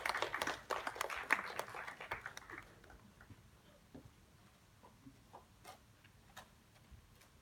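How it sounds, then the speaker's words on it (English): Audience at a PAM event in September 2019 giving a round of applause: sparse, fairly quiet clapping that is busiest in the first two seconds, then thins to a few scattered claps. "Let's give them a round of applause."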